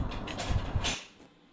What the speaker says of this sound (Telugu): ప్రెజర్ అంతా రిమూవ్ అయిన తర్వాత కుక్కర్ ఓపెన్ చేయండి